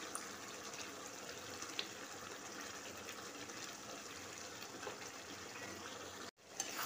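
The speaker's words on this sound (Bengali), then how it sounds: "এবার এতে আমি একটু জল দেবো, অল্প একটু জল দেবো।" Water is poured into chicken leg curry simmering in a pot, a soft steady gush of liquid filling the pan, faint and continuous, with a brief drop near the end.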